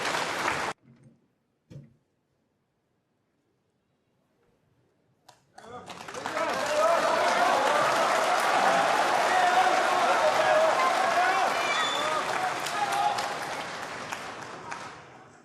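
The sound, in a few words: snooker crowd applauding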